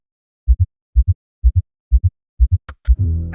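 A heartbeat sound effect thumps in five steady, evenly spaced double beats, deep and close, before low music swells in.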